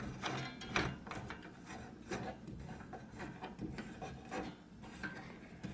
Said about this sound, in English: And then just screw that in.